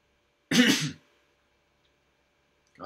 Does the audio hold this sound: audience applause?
no